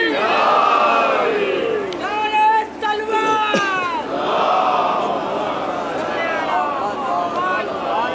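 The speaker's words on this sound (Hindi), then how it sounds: "सलवात पढ़िए मोहम्मद वाले" A large crowd at a religious gathering recites salawat in unison, a loud swelling chorus of voices that rises and falls in waves, with a few individual voices standing out midway.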